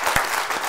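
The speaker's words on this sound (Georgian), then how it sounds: "აპლოდისმენტები" Studio audience applause on a Georgian comedy game show, a brief continuous patter of clapping with a couple of louder claps, fairly close and steady.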